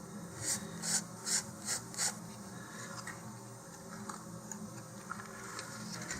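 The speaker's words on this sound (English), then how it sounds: "150 grit sandpaper here" Sandpaper of 150 grit rasps across an Estes Hex-3 model rocket in five quick, evenly spaced strokes, soft and close, with quiet scraping trailing off afterward.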